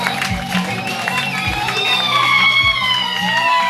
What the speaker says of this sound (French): on peut encore applaudir pour l'homme qui est en face de nous